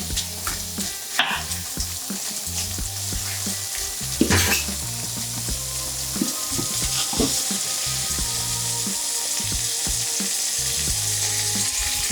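Raw king prawns frying in garlic butter sizzle steadily and loudly for the whole stretch, with a few stirs and light pan knocks breaking through, no voices.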